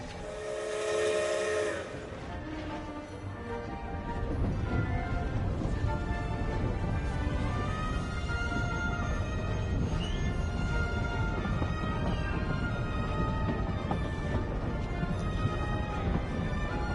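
Train in the Genshin Impact video game, a whistle blast at the start followed by steady, continuous rolling and rumbling of rail cars, loud and close, with no talk.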